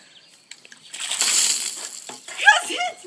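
Bucket of water thrown over a person: a sudden whooshing splash and spatter lasting about a second, then dripping and sloshing, followed by a voice crying out near the end.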